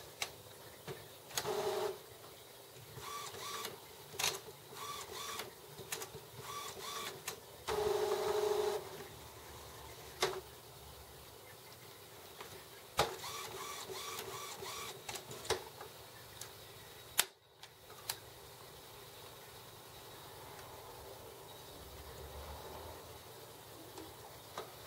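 Epson XP-830 inkjet printer fitted with a continuous ink system finishing its initialization: repeated mechanical clicks, short motor whirs and buzzing bursts of the moving print head, irregular and close, with quieter stretches between.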